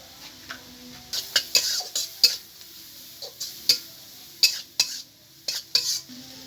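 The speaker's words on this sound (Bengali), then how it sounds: "পেঁয়াজটাকে আমি একটুখানি সময় রান্না করে নেব" Onions cooking in a pan with salt and turmeric, stirred with a utensil: sharp metallic scrapes and clinks in an uneven rhythm over a faint sizzle, close by.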